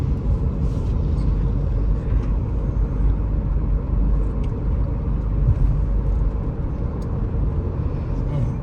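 Road traffic on a roadway under construction passes as a continuous rumbling drone of vehicles, steady and moderately loud, with occasional brief higher sounds.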